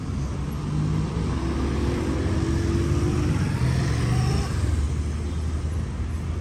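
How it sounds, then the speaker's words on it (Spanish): A car engine hums steadily close by on a street, its broadband road noise and low rumble holding at a constant level with a faint pitch shift as it moves past. "Puede venir un carro."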